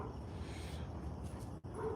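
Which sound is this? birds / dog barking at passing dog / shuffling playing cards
dog barking at passing dog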